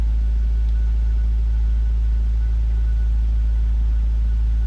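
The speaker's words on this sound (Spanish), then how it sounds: "Uy, no, se siente más parejo el motor." A Nissan HR16DE engine idles steadily right after fresh spark plugs, a close, even low rumble that holds without revving for the whole stretch.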